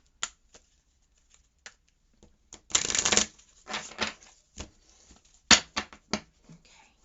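Oversized tarot cards are shuffled by hand in bursts of riffling and slapping, close and fairly quiet, with short pauses between the flurries.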